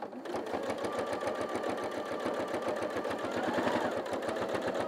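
A sewing machine runs steadily, its needle stitching in a fast, even rhythmic chatter that continues without pause throughout.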